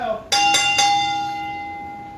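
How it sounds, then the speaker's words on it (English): A wrestling ring bell at a backyard wrestling show, struck three quick times and left ringing loudly for a long time. "Waiting for the referee's signal to ring that bell."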